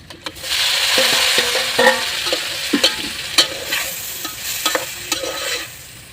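Tomatoes go into a frying fish curry in a pan. A loud, continuous sizzle runs under repeated scraping and clinking stirs from a spoon against the pan, with a few sharper knocks.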